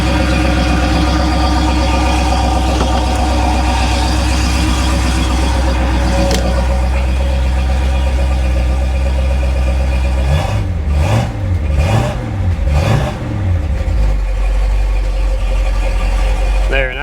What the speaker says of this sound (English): There, now the idle's kicked down.